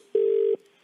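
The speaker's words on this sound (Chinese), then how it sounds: "我们打电话给你喽" A single short telephone ring tone for a call on a game show, one clear steady electronic beep lasting under half a second, otherwise quiet.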